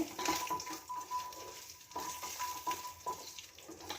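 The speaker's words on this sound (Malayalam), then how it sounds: "ഞാൻ ഇത് തന്നെ വെച്ച് ഈ അണ്ടിപ്പരിപ്പ് ഒന്ന് ഇളക്കട്ടെ" Cashew nuts frying and sizzling in a hot pan as they are stirred while cooking a prawn biryani, a soft steady crackle with occasional scraping strokes, fairly quiet and close.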